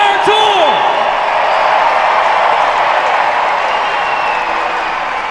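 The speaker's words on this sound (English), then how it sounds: "So make some noise for being the best crowd of the entire tour" A huge stadium crowd at a Savannah Bananas game at the Cleveland Guardians MLB ballpark roars and cheers in a broad sustained wall of noise, with a whoop near the start, slowly fading slightly.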